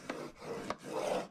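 Cardstock drawn along the grooves of a scoring board: three soft, dry rasping strokes in quick succession, close and fairly quiet, with no voices.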